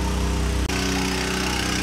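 Small engine-driven water pump draining rainwater at a Mahenge spinel mine drones loudly and steadily, with one brief dip in the middle before the running tone resumes, and no one speaking.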